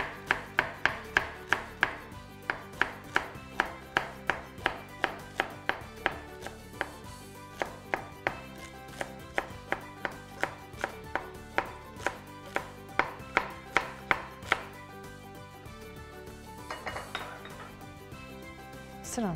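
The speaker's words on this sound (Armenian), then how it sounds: "և վերջից մի փոքր եք կտրատում, և այս հատվածից նույնպես, և սկսում եք ուղակի մանր կտրատել։" Celery being finely chopped with a knife on a cutting board, a steady run of sharp, close knife taps in quick rhythm, briefly pausing near the end, with no talking.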